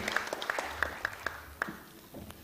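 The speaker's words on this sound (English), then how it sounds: "Give applause" A small audience at the close of a donor forum session gives sparse, scattered claps, individual hand claps standing out against a quiet room.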